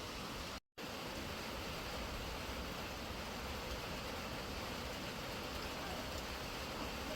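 Steady rain and wind on a mountain near Govindghat in cold weather, an even, unbroken hiss filling the whole span apart from one brief dropout near the start.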